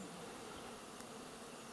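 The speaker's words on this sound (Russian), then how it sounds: "И вдруг пчелы на нас." A swarm of bees over a rural homestead garden makes a steady, faint, continuous buzzing hum throughout, with no voices.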